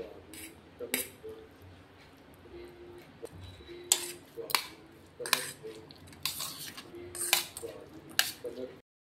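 A spoon scraping and clinking against a pan while sweet corn is mixed with fried rice masala, in scattered bursts with quiet gaps between them, close by, with brief talking in places.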